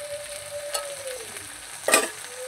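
Whole garlic cloves and onions dropped into hot oil in a frying pan, a steady sizzle with a sharp crackling burst as they hit, no talking.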